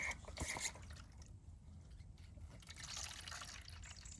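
Water trickles and splashes steadily as a chicken coop waterer refills outdoors, a soft continuous running flow with a brighter splash near the start.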